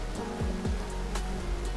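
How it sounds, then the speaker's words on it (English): Malali Falls in Coorg, a waterfall dropping over 200 feet in two steps, heard as a steady broadband rush of falling water with faint low tonal hum underneath. "falls over 200 feet in 2 steps to create the Malali Falls"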